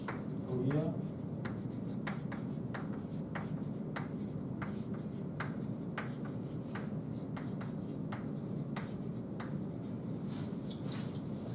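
Marker or chalk drawing on a board in a lecture hall, a series of short scratchy strokes in uneven rhythm over a low room hum.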